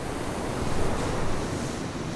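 Ocean surf pounds Nahoon Reef near East London, a steady, full roar of breaking waves with a rushing wash that swells slightly mid-way, close and loud with wind noise and no voices.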